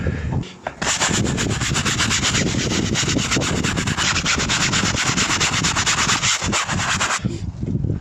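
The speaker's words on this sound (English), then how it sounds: "let's get the scrubbing brush out" A scrubbing brush works hard across a convertible's fabric soft top roof, giving a loud, close, continuous rasping scrub for several seconds with no talk.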